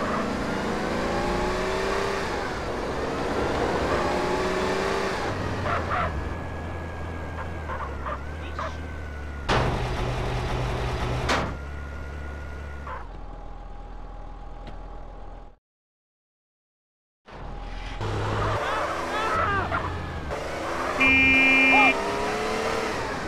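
A car engine in GTA San Andreas revs and drones as the vehicle is driven, with shifting pitch, a few sharp crashes, a brief drop to silence, then engine noise again while a person talks over it.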